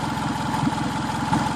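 A 2003 Toyota Camry engine runs after an engine swap, a close, steady idle with an even rhythmic low pulse and a constant hum, with no talking over it.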